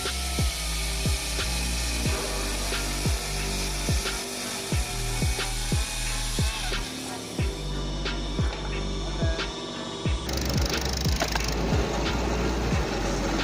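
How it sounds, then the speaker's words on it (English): A homemade log saw built around a chainsaw assembly, with a hydraulic piston shifting the log and a gas strut lifting the saw, cuts through wood. A loud, steady mechanical drone is punctuated by sharp, evenly spaced clacks, with no talking. "it's a homemade log saw"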